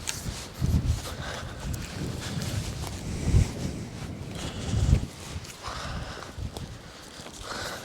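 Strong gusting wind buffets the microphone aboard a fishing boat in deep water, a steady rough roar with low thumps and knocks rising and falling throughout.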